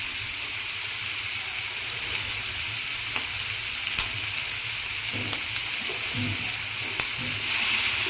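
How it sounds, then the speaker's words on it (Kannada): Five or six garlic cloves fry in a pan of oil for a hotel-style tomato chutney, a steady close sizzle with occasional stirring scrapes and pops, brightening into a stronger hiss near the end. "ನಾನೀಗ ಇದಕ್ಕೆ ಒಂದು 5-6 ಎಸಳಷ್ಟು ಬೆಳ್ಳುಳ್ಳಿ ಹಾಕ್ತಾ ಇದ್ದೀನಿ."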